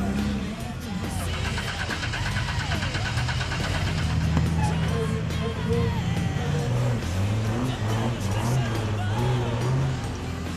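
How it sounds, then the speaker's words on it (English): A four-wheel drive fitted with a V6 Commodore engine and full hydraulic steering drives along, its steady mid-pitched engine drone rising and falling continuously throughout, close and fairly loud, with someone talking over it at times. "It's got a fair bit of punch for a V6 Commodore motor."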